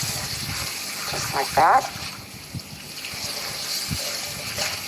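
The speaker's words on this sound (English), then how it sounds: "So now I'm going to rinse it out." A cast-iron skillet being rinsed under running kitchen tap water, a steady broadband wash with a brief louder gush near the middle, heard under a man's nearby speech.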